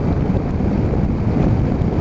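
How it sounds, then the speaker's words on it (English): Strong crosswind buffeting the microphone on an unfaired Triumph Tiger 955i motorcycle riding a dual carriageway between open fields, a steady loud low rumble of wind roar with no speech. "I do have a good crosswind on me now, obviously on a dual carriageway with open fields to both sides"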